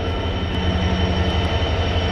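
A Tesco freight train rolls past on a rail line, a steady loud rumble with a low drone throughout.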